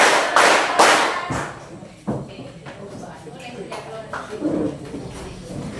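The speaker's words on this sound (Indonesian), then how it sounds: "Tepuk 1 kali, tepuk 2 kali, tepuk 3 kali." Children in a classroom clap in a counted pattern of one, then two, then three sharp claps, loud and close, with a teacher's voice and other talk around them.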